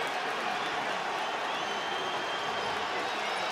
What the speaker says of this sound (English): The Florida crowd gets into it.